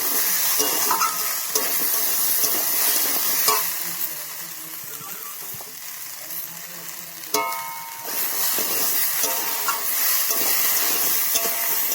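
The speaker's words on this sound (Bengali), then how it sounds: "দিয়ে আরো ভালো করে ভেজে নেব" Ground spice paste sizzles and fries in a pan for a dish of kohlrabi with peas, with steady hiss and repeated scraping stirs throughout and a brief louder clatter partway.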